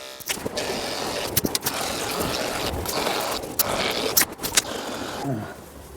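An electric beard trimmer hums continuously close by, a steady motor buzz with small clicks and bumps as it is handled and knocked about.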